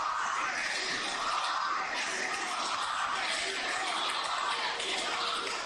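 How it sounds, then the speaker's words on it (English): Sustained crowd applause and cheering in a large arena during a Republican National Convention speech, a dense steady roar filling the whole stretch without pause. "Oh, that applause. It goes on for a little bit."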